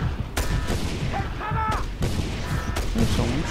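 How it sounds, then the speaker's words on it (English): Gunfire in the Just Cause 2 video game, several broadband bursts and cracks at a steady loud level amid continuous combat noise, with faint tonal in-game effects between shots. "There's someone shooting me."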